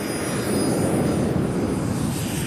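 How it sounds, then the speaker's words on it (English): A private jet's engines roar in a disaster movie scene, a loud, steady broadband rumble and whine that fills the whole moment without any speech. "Now we're in Daniel's private jet with him and Blake."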